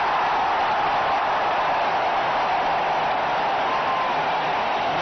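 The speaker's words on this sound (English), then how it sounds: "it really has brought the crowd alive" A cricket crowd at a 2003 India versus New Zealand one-day international roars and applauds a big shot, a loud, steady wall of cheering held for several seconds in a large stadium.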